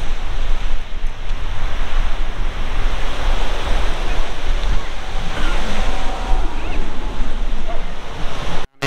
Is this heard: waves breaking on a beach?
yes